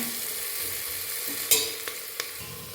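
Onions frying with a pinch of salt in a pan for sweet corn palak khichdi, a steady close sizzle broken by a few sharp clicks of a spoon scraping the pan.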